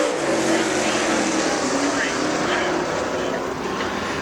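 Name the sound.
super late model race car coming off the corner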